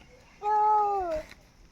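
A child imitates a cat's meow, one drawn-out, falling mew voiced close and clear, with a brief rustle after it.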